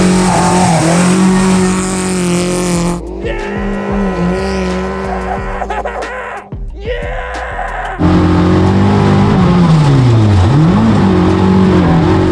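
A 1980 Toyota Corolla rally car engine roars and revs hard, rising and falling as it shifts through gears, loud and close, with brief drops in between.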